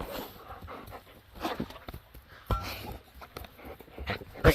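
Dog panting in quick, steady breaths with soft whimpers mixed in, close by, beside a cheap homemade electric fence set in sand; a few brief sharp sounds break through near the end.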